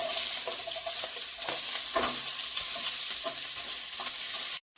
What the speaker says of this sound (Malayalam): നമുക്കിനി അതിലേക്ക് ഉള്ളി ഇട്ട് കൊടുക്കാം